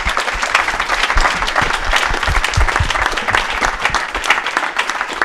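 A conference audience applauds panel experts with dense, sustained clapping that stays loud and even throughout.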